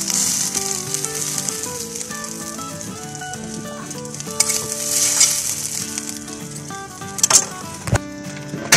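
Scrambled egg frying in a pan while cooking okra omelette, a steady close sizzle running throughout with occasional sharper crackles and pops near the end.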